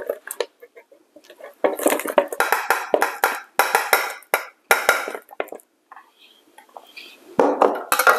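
Chopped heirloom tomatoes are loaded into the hopper of a Weston tomato press, with repeated close clattering knocks and scraping bursts of utensils against the hopper, pausing briefly midway.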